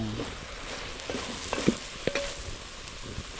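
Garam masala is stirred into mutton boti frying in a pan, with a constant sizzle broken by a few scraping spoon strokes and light knocks against the pan.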